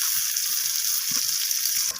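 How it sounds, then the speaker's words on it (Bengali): Potato pieces fry in hot oil seasoned with salt and turmeric, giving a steady close sizzle with a few faint stirring clicks and no talk. "তো লবণ আর হলুদটাকে দিয়ে আমি আলুগুলোকে একদম ডিমের মতো করে লালচে রং করে ভাজা করে"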